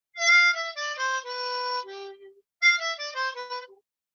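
Harmonica plays a short bluesy phrase of clear, sustained notes without the 3 draw half-step bend, pauses briefly, then repeats a shorter version, alone and close.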